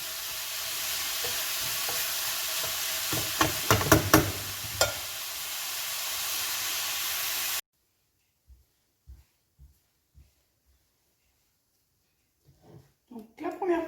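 Spaghetti squash fries in a pan with a loud, steady sizzle and scraping stirs for several seconds. It then cuts to near silence with a few soft, scattered taps.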